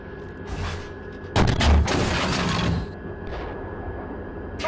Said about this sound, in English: Target, tank, fire Sabo.